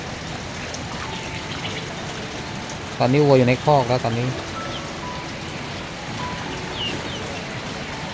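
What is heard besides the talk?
rain falling in rural Surin, Thailand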